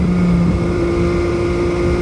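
An MV Agusta Brutale 800 motorcycle engine during downshifting, a steady loud drone with a shifting tone partway through, with heavy wind rush over the whole stretch.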